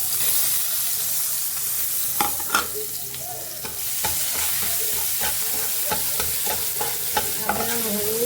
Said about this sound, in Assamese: আদা, নহৰু, জলকীয়া আৰু গোটা জিৰা পিছা মই অকণমান ভাজি লৈছোঁ ৰঙা হোৱাকৈ।